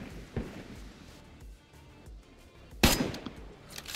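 Gunfire in the survival game DayZ during a coastal base raid: one loud, sharp shot stands out near the end, with fainter earlier cracks, and no speech over it.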